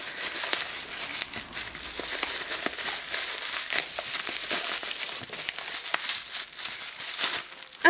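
Tightly wrapped package being torn open by hand without scissors, a steady run of close crinkling, crackling and tearing of wrapping that continues throughout with no talking.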